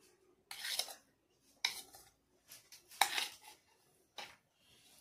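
Ground rice flour being mixed by hand in a bowl with grated coconut and salt for chitoi pitha batter: about five short, close bursts of scraping, rubbing and light clinking against the bowl, separated by quiet pauses.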